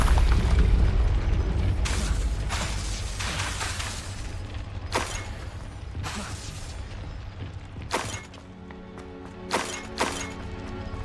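Confringo blasting spells from the Hogwarts Legacy video game burst out one after another, each explosion a sharp, heavy crack over a low, rumbling bed of game noise, spaced irregularly and fairly close.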